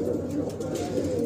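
Hyderabadi pigeons, among them a pink one, cooing in a loft in Delhi during hot weather, a low, steady murmur of overlapping coos close by.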